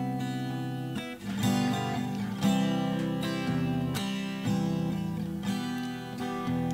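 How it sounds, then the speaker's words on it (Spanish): Strummed acoustic guitar processed through a Cakewalk acoustic guitar effects preset, sounding full and sustained with ringing chords and regular strum attacks at a moderate, even pace. "En este caso, como es una guitarra acústica, vamos a probar el preset de guitarra acústica."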